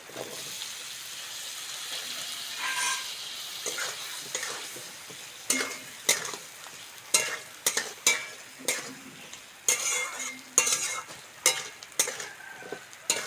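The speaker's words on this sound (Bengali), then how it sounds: "মশলার সঙ্গে আলুগুলো ভালো করে ভেজে নেবো" Potatoes frying with spices in a pan sizzle quietly at first, then a run of sharp, repeated spatula scrapes and knocks against the pan rings out nearby, with no one speaking.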